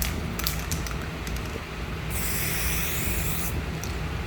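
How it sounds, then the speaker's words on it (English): A hissing spray burst of clear coat onto a car headlight from about 3 to 6 inches, lasting about a second and a half, preceded by rattling can clicks, then a faint spray near the end. "you're going to want to spray it about 3 to 6 inches away"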